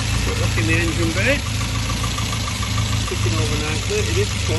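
A cold 1972 Morgan 4/4 with a 1600 Crossflow engine idles just after starting, a steady low ticking-over rumble close by with someone talking over it.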